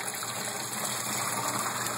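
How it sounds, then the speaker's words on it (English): An aquaponics pipe pumps water into a fish tank, a steady, close gushing rush of pouring water that continues without a break and with no voices. "And we have another pipe pumping water in two directions."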